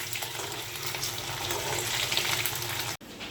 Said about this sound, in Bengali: ডিমগুলো আমার ভাজা হয়ে গেছে